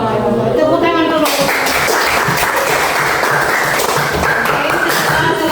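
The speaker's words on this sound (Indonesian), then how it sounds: "Tepuk tangan dulu." A roomful of people bursts into dense, sustained applause after a group presentation, steady and loud for several seconds; a voice speaks briefly just before the clapping starts.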